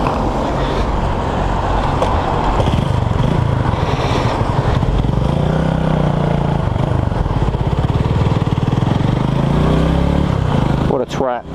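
A Honda CB250RS motorcycle engine runs loud and close, with a steady idling chug and some swelling revs, ending in a quick sharp rev; someone talks intermittently over it.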